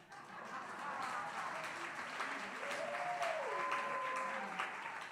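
Steady applause from a workshop audience, a continuous wash of clapping at moderate distance, with faint tones drifting beneath it.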